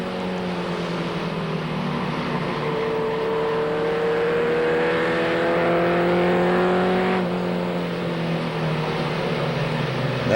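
Race trucks circle Seekonk Speedway, heard from the stands as a steady, loud roar of several engines. The engine pitch rises and falls as the trucks pass through the turns, and no voices are heard.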